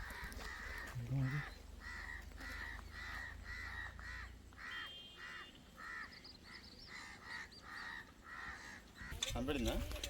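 A crow near its nest caws over and over in a steady rhythm of harsh calls, fairly close and clear, with a voice speaking at the start and end.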